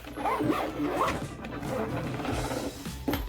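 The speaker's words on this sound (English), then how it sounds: "Zips really nice." A zipper runs along a Béis travel bag, a series of quick scratchy pulls in the first second and again briefly near the end, close and moderately loud against light room noise.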